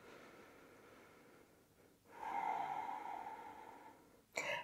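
Slow, deep breaths are drawn in and let out while holding a yoga balance pose, a soft, close airy hush that swells midway and ends in a sharper exhale.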